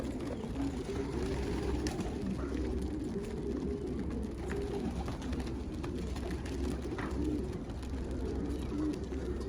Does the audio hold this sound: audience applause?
no